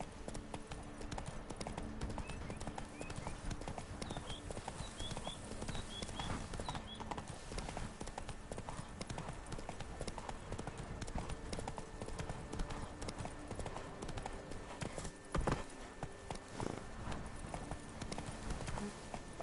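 Galloping horse hooves in The Witcher 3 video game pound in a fast, steady rhythm, a dense continuous drumming at moderate loudness with faint jingling tack and a brief snort near the end.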